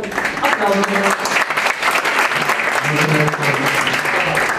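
Applause fills a business seminar hall as a guest is welcomed, dense clapping from a large audience, loud and sustained, with faint voices and a low tonal hum underneath.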